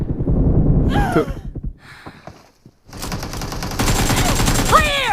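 Dense bursts of automatic gunfire from the mobile battle royale game PUBG Mobile, loud and rapid, pausing briefly midway before resuming in sustained volleys, with game effect sounds mixed in.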